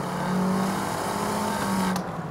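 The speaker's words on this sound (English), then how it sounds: "And you get a four-pipe Monza exhaust," A Fiat 500 Abarth 595 Competizione with a four-pipe Monza exhaust drones steadily at a constant engine note, loud and close, with a brief sharp click near the end.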